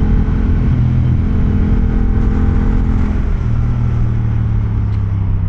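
A Yamaha R7 motorcycle engine drones steadily and loudly while riding, with a low constant hum mixed with wind rush and no clear revs.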